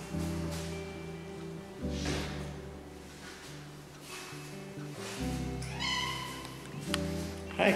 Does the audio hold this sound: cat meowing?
yes